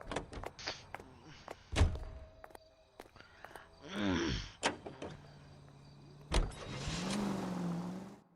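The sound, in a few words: car driving in the video game L.A. Noire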